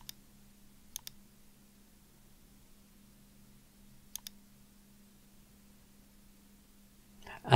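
Faint, sharp mouse clicks while selecting a file in Xero accounting software on a computer: a single click, a quick double click, then another pair later. A quiet hum sits beneath, and a louder burst of noise comes at the very end.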